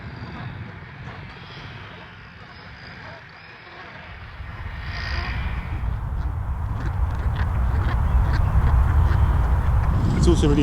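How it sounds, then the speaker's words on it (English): Wildfowl calling at Farlington Marshes on the south coast, including dark-bellied Brent geese: distant quacking and honking over a windy outdoor background that grows louder partway through. "Brent geese are very important, so we get dark-bellied Brent geese down here on the south coast."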